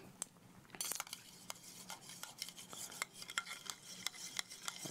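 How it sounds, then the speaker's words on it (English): Ice cubes stirred in a cocktail glass while a summer cocktail is mixed, giving repeated close clinks and scraping rattles throughout, with no talk. "first we're gonna go with a couple pieces of ice just to stir it all together"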